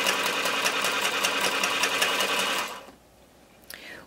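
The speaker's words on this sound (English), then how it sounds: "I'm sewing all of the seams here. So in order to save time, I'm going to chain piece" Sewing machine chain piecing quilt fabric seams, running in a fast, steady mechanical whir for under three seconds, then stopping abruptly into near silence with a faint click.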